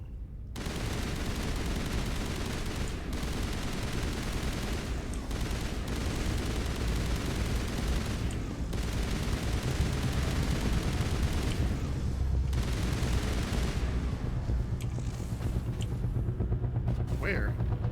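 Sustained gunfire from the video game Mass Effect Legendary Edition, dense bursts and booming shots rolling almost continuously at steady loudness, with brief lulls and a player's voice talking over the action.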